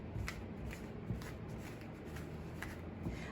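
A deck of cards is shuffled close by in several short riffling bursts, with soft handling and tapping between them and no talk.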